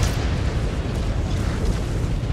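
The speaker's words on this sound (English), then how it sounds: "Missile." A missile blast in the mech combat game MechWarrior 5: Clans rumbles as a deep, sustained explosion, loud and low-heavy, rolling on without a break for a couple of seconds.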